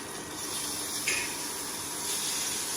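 Fish sizzling in a hot pan on an estate kitchen cooktop, a steady close broadband hiss running throughout with one brief louder spit near the middle.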